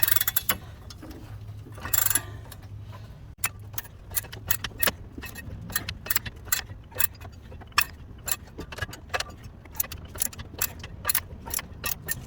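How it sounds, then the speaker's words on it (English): Ratchet wrench clicking rapidly in repeated bursts while loosening a bolt during strut and shock assembly replacement on a Chevrolet Aveo, sharp mechanical ticks fairly close over a low background hum, no talk. "You can hear the ratchet in the back working"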